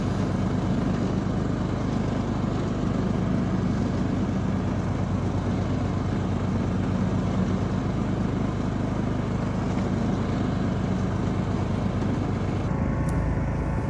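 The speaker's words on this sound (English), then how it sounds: "This is a pretty bumpy ride, but the mower's doing pretty good." Riding lawn mower on solid tires crossing a bumpy pasture, its engine a steady, continuous rumble close by for the whole stretch, with rattling and jostling underneath and no talk.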